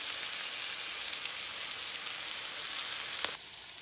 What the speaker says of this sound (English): Okay, our bacon's starting to cook, and we've got some little color to our onions.